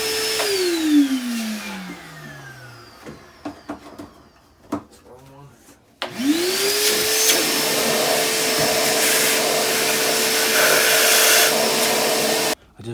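A vacuum cleaner whines up and winds down, followed by scattered knocks and clatter, then starts again and runs loudly and steadily before cutting off, cleaning a Honda XR250L engine that sat outside for ten years.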